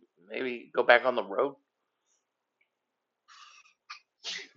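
A short sneeze late in the moment, following a man's brief spoken line and a silent gap, with a small breathy catch just before it.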